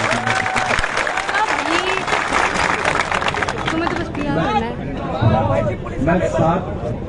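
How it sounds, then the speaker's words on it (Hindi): Applause and crowd noise at a public meeting between a chief minister and young people, clapping mixed with loud talk and babble throughout, the speech growing more prominent as the clapping thins. "एक बार जोरदार तालियां मुख्यमंत्री।"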